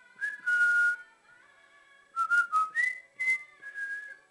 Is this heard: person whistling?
yes